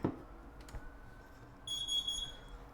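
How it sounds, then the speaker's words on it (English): A high-pitched electronic alarm beep sounds for about a second after a couple of faint clicks, fairly quiet against a low background hum. "Smoke alarm beep."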